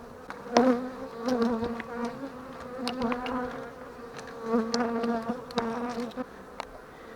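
A swarm of honeybees buzzes steadily from an opened hive, a close, droning hum rising and falling in waves with individual bees passing near, no voices present.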